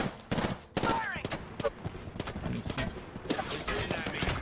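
Video game gunfire rattles in quick bursts and single sharp shots during a squad battle royale match, loud and close, mixed with brief game effects.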